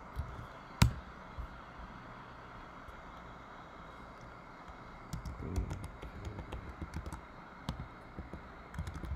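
Typing on a computer keyboard while entering a router configure-terminal command, quiet scattered key clicks that grow busier in the second half, with one sharper tap early on, close and faint.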